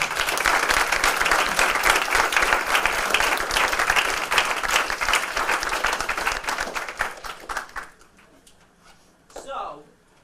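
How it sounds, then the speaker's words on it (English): An audience applauds at a youth police academy graduation, dense, sustained clapping for about eight seconds before it cuts off, followed by a brief spoken word over a quieter room. "So Connor, you really should give yourself a round of applause for that."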